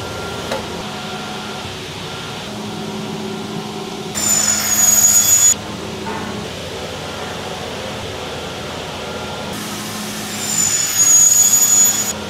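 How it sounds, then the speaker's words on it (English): A power drill bores holes in metal gear racks, with two loud whining bursts separated by quieter shop noise and a low steady hum. "I'm gonna drill a bunch of holes, matches this hole pattern to put onto the V0 prototype."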